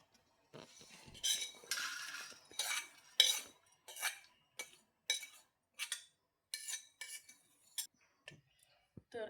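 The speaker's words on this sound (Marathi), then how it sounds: "हे खोबरंसुद्धा आपण एका वेगळ्या डिशमध्ये काढून घेऊया" Roasted grated coconut is scraped from a pan into a separate dish with a metal spoon, giving a run of close, crisp clinks and scrapes in short bursts with brief pauses between them.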